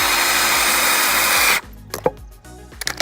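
A drill drives a decking screw with a T25 torx bit into wood for a rolling mitre saw stand, one sustained loud whirring run for about a second and a half, then stops, leaving light clatter and handling knocks.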